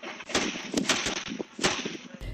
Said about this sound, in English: then exchanging gunfire.